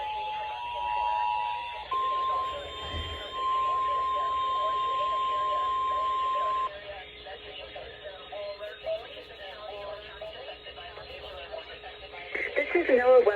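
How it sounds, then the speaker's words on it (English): Test signal on NOAA Weather Radio for the Florida listening area: a steady, loud electronic tone runs continuously at first, then gives way to a synthesized announcer voice over a constant carrier hum. "The preceding signal was a test of the public warning and alarm for transmitters in the Florida listening area"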